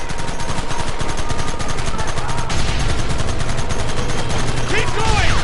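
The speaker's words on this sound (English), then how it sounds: "Gun them down!" Gunfire in Red Dead, a rapid, loud barrage of repeated shots crackling continuously, with voices shouting over the shooting.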